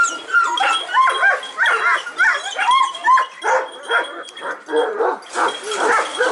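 Purebred Kangal dogs on a farm giving a rapid run of yips, barks and whimpering whines, close and continuous with short gaps between bursts.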